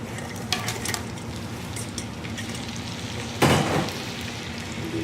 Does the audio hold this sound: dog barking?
no